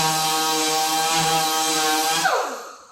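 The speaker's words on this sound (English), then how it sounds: "Sand your edges." A power sander runs loudly and steadily with a strong tonal whine against the edge of a wooden cabinet door, then spins down and fades out near the end.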